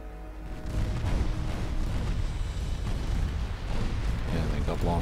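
Torpedo launches and explosions in the naval game Ultimate Admiral Dreadnoughts rumble as a dense, continuous roar of booms and bursts, loud and layered, with a voice talking underneath.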